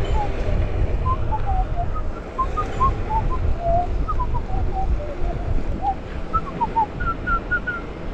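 Someone whistles a wandering tune in short bright notes over a loud rumbling background of wind or engine noise.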